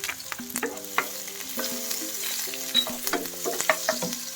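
Garlic frying with onions in a pan, a continuous moderate sizzle with bursts of stirring and spoon clinks against the pan throughout, with no talk.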